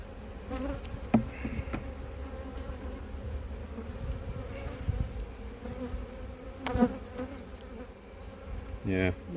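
Honey bees at an apiary hive make a continuous close buzzing drone, with a few sharp knocks and handling clicks mixed in.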